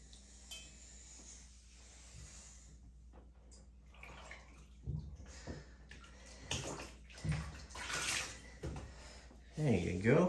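Water splashes and sloshes as a male albino snake is bathed, with soft dripping early and louder bursts of splashing toward the end, close by.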